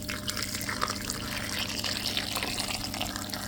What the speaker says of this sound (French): Et alors avec tout ça, je vais rajouter de l'eau bouillante.